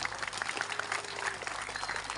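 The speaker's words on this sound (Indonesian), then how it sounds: "Tepuk tangan dulu semua" Applause from a gathered audience at a religious talk on the Prophet's Mi'raj, a brief, moderately faint patter of clapping with a faint voice beneath.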